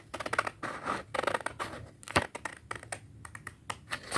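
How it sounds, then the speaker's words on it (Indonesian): Scissors cutting through paper in a classroom: a rapid series of crisp snips and rustling crunches, close and fairly quiet, in irregular bursts with brief pauses between them and no talking. "kita merobek kertas atau menggunting kertas menggunakan gunting gini"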